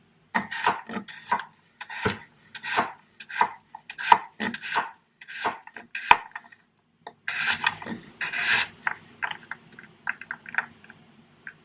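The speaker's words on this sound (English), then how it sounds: "So I'm dicing my carrots because I'm making a stew" Knife dicing carrots on a cutting board, a quick run of crisp, close chops in an even rhythm, a short pause, then a denser burst of cuts and scraping, with no talking.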